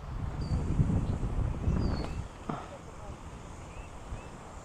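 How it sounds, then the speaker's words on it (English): Wind gusts across an outdoor disc golf course in St. Louis, Missouri, a loud buffeting rumble for the first couple of seconds that then dies down, leaving faint bird chirps in the quieter air. "Oh, the wind."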